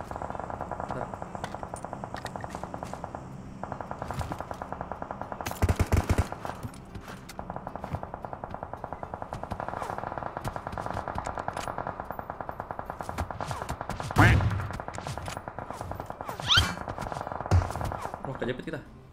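Gunfire in the mobile battle-royale game PUBG Mobile, with bursts of automatic shots and sharp cracks breaking over a steady game background, loudest around the middle and later moments, while players talk throughout.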